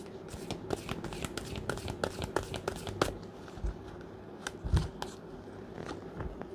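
Tarot cards are shuffled by hand in a steady run of soft, rapid riffling and flicking, fairly close, with a faint background hum and no talk.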